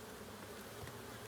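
Honeybees buzz around an open beehive with a feeder, a soft steady hum of many insects close by and without pause.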